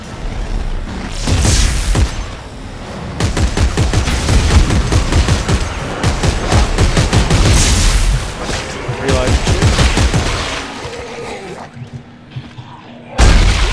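Rapid bursts of gunfire from the Limited Edition gun in the sci-fi horror game Dead Space 3, loud and sustained over several seconds and then tapering off, with voices talking over the shooting.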